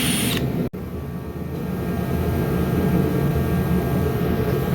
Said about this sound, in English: Sorry about the background noise. We gotta run the heat a little bit.